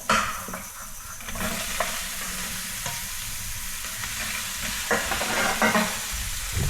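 Chilies sizzle and fry in a pan while being stirred, a steady close crackle with intermittent scraping clatters of the spoon against the pan.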